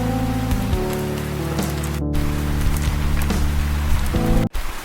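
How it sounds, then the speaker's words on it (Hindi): A cartoon forest sits in heavy rain, with a dense, steady downpour filling the whole span. Low tonal background music plays beneath the rain, which is briefly cut twice, and there is no talk. "जंगल में बहुत तेज बारिश हो रही थी।"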